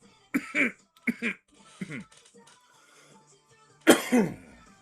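A few harsh coughs and throat-clearing bursts come in a short cluster, then a pause and one more loud cough, close to the listener.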